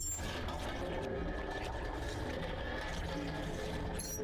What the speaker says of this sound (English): I guess turn on the water